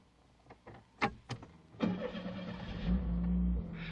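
A vintage General Motors car is readied with a few sharp clicks and clunks, then the engine cranks and catches, settling into a loud, steady idle close by.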